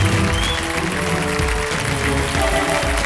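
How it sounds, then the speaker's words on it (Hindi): A studio audience on the Kaun Banega Crorepati quiz show claps in a dense, loud, continuous wash of applause, filling the whole moment without any talk. "जोरदार तालियों के साथ मैं चाहता हूं देवी सज्जनों उनका स्वागत किया जाए।"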